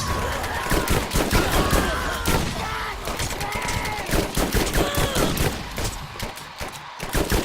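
Rapid, dense bursts of shotgun fire in the video game Borderlands, during an Underdome arena fight, loud and continuous with overlapping blasts and game effects throughout.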